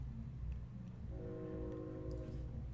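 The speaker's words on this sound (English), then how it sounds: "The train going through, so it's just screaming." A train rumbling past in the video game Lost Judgment, a low steady roar with a sustained horn-like tone joining midway, faint and continuous throughout.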